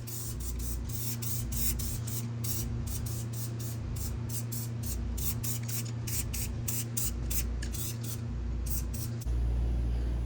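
Short rhythmic bursts of spray paint hiss from an aerosol can as light coats of white paint are dusted on, repeating in quick pulses over a steady low engine-like hum.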